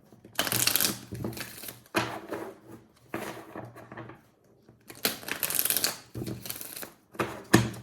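Tarot cards shuffled by hand in several separate bursts of riffling, flapping and clacking with short quiet gaps between, close and crisp.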